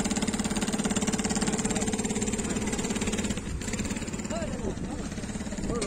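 Industrial double-needle sewing machines stitching geotube fabric run with a steady, rapid mechanical chatter, fairly loud and close, that eases slightly partway through while people talk faintly nearby.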